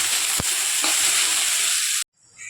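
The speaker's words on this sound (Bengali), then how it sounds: "পরোটা হয়নি, এখন ভিন্ডি ভাজা হচ্ছে।" Okra (bhindi) frying in a pan for breakfast, a loud, steady sizzle with a couple of stirring knocks that stops abruptly near the end.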